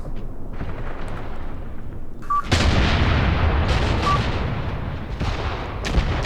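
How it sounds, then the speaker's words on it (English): Artillery gun in the war game Graviteam Tactics Mius Front firing at tanks on a hill, with a loud sustained boom and rumble starting midway, followed by further heavy blasts and rolling echoes. "Every tank that shows itself on that hill is getting smacked by this gun."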